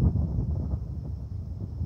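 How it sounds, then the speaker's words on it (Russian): Wind gusting outdoors at a sawmill, a low buffeting rumble against the microphone that rises and falls briefly, with no voices. "Вот ветер сегодня, ветер."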